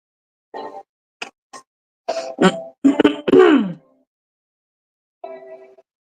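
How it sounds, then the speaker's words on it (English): Someone clears their throat and coughs several times in short, separate bursts, close and fairly loud, with quiet gaps between them. "That's why you keep hearing me clear my throat and cough"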